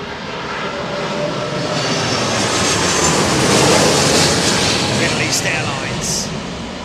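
An airliner's engines power up loudly for a go-around in high winds at Heathrow, a broad, roaring rush that swells to a peak and slowly eases, with wind noise mixed in.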